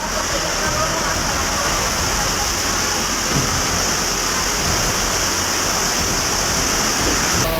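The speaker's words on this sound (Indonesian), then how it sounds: "Hujan es batu di Bekasi." Heavy rain mixed with hailstones pounding down during a violent windstorm in Bekasi, a dense, constant roar with occasional sharper impacts, while voices speak faintly underneath.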